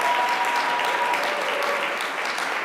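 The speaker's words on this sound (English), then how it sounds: "Yeah, you should clap for her." Audience applause at a civic leadership academy welcome ceremony, a dense, steady wash of clapping that stays loud and even throughout with no talk over it.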